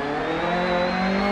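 A Fiat 131 Monte Carlo rally car engine in the Dirt video game roars loudly and steadily, its pitch climbing slightly as it revs, close and unbroken.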